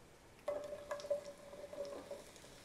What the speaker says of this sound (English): We should hear a really good sizzle when these hit the pan.